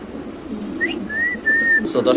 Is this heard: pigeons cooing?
yes